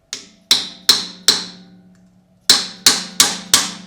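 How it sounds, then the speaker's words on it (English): A small dead blow hammer strikes a wrench handle through a wooden block in seven sharp, ringing taps: three quick ones, a short pause, then four more in a steady rhythm, close and fairly loud with no talking. "So I got my little dead blow hammer."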